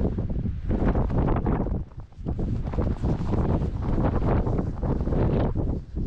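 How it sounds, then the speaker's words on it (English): Strong wind gusts roar across an exposed Scottish hilltop, buffeting the microphone with heavy rumbling blasts that rise and dip continuously without pause. "That's like an 80 mile an hour wind, folks. It's just blasting me right now."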